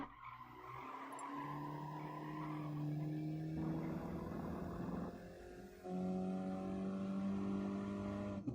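On-board racing car engine from a sim race at the Nürburgring GP circuit, a loud sustained drone rising and falling through gear shifts with a stretch of tire squeal midway, continuous with no voices.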